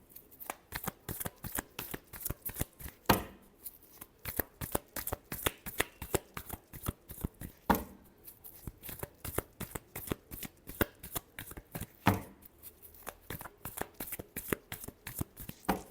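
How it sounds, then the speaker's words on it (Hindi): Tarot cards being shuffled by hand in a rapid, steady riffling rhythm of crisp slaps and flutters, close and continuous with a few louder bridging bursts, no voice heard. "last shuffle"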